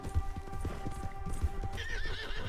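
Horse hooves clip-clop at a steady gallop in the video game Red Dead Redemption 2, with a clear rising neigh near the end; fairly quiet, heard alone without talk.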